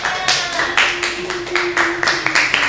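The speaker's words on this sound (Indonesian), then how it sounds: "Mana tepuk tangannya?" A small university class claps for student presenters after a Japanese-language micro teaching session, a few people clapping in an uneven rhythm of quick bursts, close and fairly loud.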